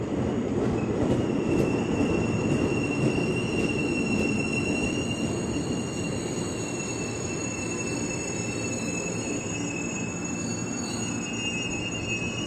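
KRL commuter trains, including a 12-car set, arriving at and departing from Depok station: a steady, loud rolling rumble of wheels on rail with a thin, sustained high squeal riding over it throughout, no voices.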